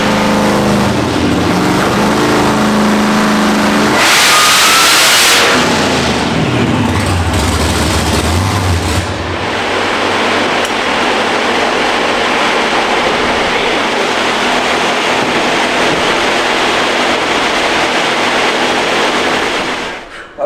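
A supercharged LT4 car engine on a dyno roars loudly and steadily, its pitch sweeping up then dropping back to a heavy, rumbling drone that fills the space.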